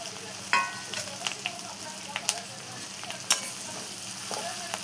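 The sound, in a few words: chickpea greens (harbhara bhaji) frying and being stirred in a pan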